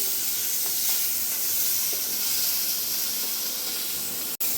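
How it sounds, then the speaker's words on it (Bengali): Minced rohu fish fries in a pan with a steady, even hiss that holds without a break, ending on one sharp click. "মাছগুলো একটু ভালো করে ভেজে নিচ্ছি"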